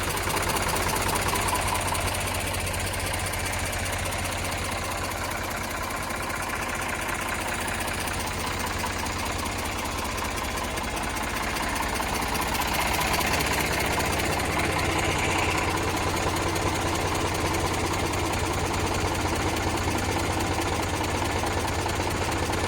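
An Eicher 485 tractor engine idles steadily and loudly nearby, with a constant rumbling, knocking diesel throb and no talk over it.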